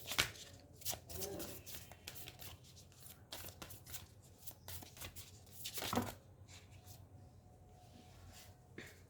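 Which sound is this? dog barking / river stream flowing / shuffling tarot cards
shuffling tarot cards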